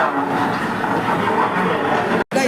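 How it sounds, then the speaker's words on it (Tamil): The Boat Mail, the Indo-Ceylon Express passenger train, rumbling along with a loud, close mechanical roar and faint rhythmic clatter, cut by a brief dropout near the end. "இப்போ வந்து பார்த்தீங்கன்னா நம்ம வந்து ட்ராவல் பண்ண போகிற ட்ரெயின் போட் மெயில்."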